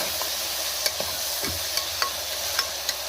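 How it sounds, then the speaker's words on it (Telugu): Fenugreek leaves fry in a pan while being stirred, a soft continuous sizzle broken by irregular sharp scrapes and taps of the spoon against the pan, close by and with no speech. "మెంతం కూర వేసుకొని బాగా కలుపుకోవాలి"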